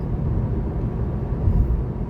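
Naturally aspirated four-cylinder engine of a 2025 Toyota Camry XSE while driving, a steady low rumbling drone with road noise heard from inside the cabin, constant and fairly loud without speech.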